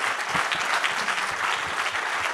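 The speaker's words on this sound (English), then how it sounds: "So huge round of applause." Warm round of applause from an alumni club audience at an evening event, thick sustained clapping filling the room at a steady level, with no one speaking over it.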